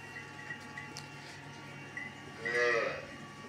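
A Jersey Sahiwal cross cow or calf on a farm lets out one loud, close moo near the end, after a few seconds of quiet farmyard background.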